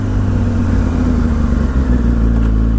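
A Yamaha R1 racing motorcycle pulls hard under acceleration on a track, its engine a steady loud droning roar with no pause across the short stretch.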